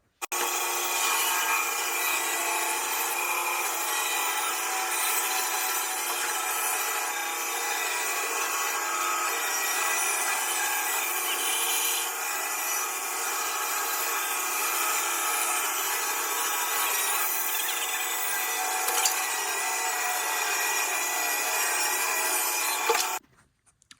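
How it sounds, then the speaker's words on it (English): A bandsaw cuts a circle from a wooden board in a dusty workshop, a continuous bright rasping whir running steadily for over twenty seconds before stopping abruptly. "And now we'll cut it on the bandsaw."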